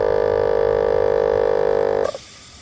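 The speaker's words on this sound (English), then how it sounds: "I added a small 12-volt DC car air pump to drive the air cylinder." A small 12-volt DC car air pump drives an air cylinder on a Halloween ghost prop, giving a steady loud buzzing drone that cuts off abruptly near the end with a couple of faint clicks.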